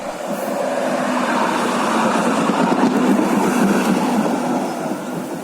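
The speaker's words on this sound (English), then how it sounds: "The next tram is the 1990s tram with DC pulsing." A 1990s tram with DC pulsing drive runs through Gdansk, giving a steady broadband rumble and rolling wheel noise with a faint motor whine, close and continuous throughout, with no voices.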